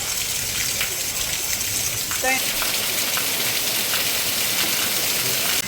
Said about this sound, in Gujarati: હવે તો આ વરસાદ માજા મૂકી હો